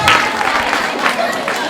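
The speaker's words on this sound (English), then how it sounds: "Oh, clap for yourselves," Audience at a school career day ceremony at St Aloysius Girls Secondary School, Bwanda, clapping in a dense, continuous patter for the whole short stretch, with a voice speaking over it.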